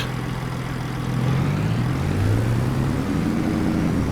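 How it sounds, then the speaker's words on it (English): A truck engine in Farming Simulator 22, a steady droning hum that slowly rises in pitch as the truck picks up revs, continuous and fairly close with no talking. "Has a different sound to the engine, so that's nice."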